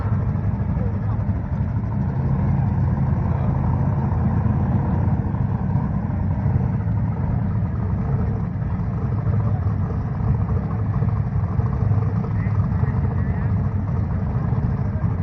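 A six-second Volvo station wagon makes a drag racing pass, its engine a steady, loud, heavy roar that holds for the whole stretch, with voices audible underneath.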